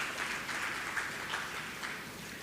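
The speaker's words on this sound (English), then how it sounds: "Please give the department a round of applause" Audience applause at a primary school graduation ceremony, a steady wash of many hands clapping that holds evenly for a couple of seconds without talk.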